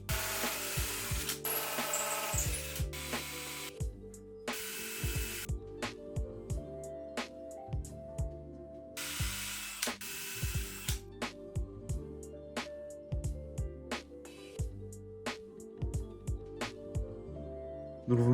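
A power drill bores an 8 mm hole in solid exotic wood while building a bed, in several separate whirring runs of a few seconds each, broken by short pauses and clicks, close and fairly quiet.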